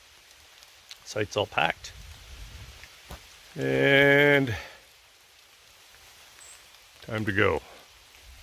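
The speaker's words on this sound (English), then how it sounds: "it's raining" Soft, steady rain patters on a tent at a fall backcountry campsite in the Western Uplands, a faint wash of drops under occasional short bits of someone talking.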